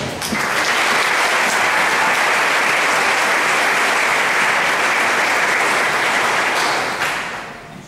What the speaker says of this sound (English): One more round of applause for the All State students.